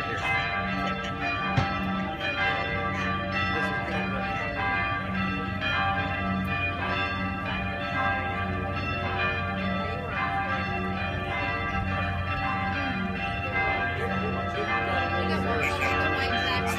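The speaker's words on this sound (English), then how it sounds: "It's the happy hour bell." Church bells in Positano, Italy ring continuously with overlapping tolls, loud and resonant, a rich sustained peal that fills the whole stretch, faint voices underneath.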